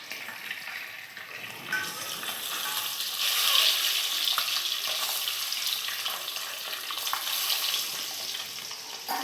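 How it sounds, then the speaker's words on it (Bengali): Eggs coated in turmeric fry in a pan with a steady sizzling hiss, broken by scrapes and clatters of stirring that rise and fall throughout. "ডিমগুলোকে একটু ভালো করে কষিয়ে নেব"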